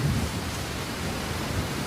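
Dense, steady rain from a thunderstorm hisses over a low rumbling undertone, a continuous stormy wash of noise with no voices.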